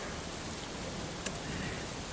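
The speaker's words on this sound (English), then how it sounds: "it is raining today" Steady rain falls outside a garage on a wet day, a dense, even hiss spread across the whole clip with one brief brighter tick of a drop partway through, no voices.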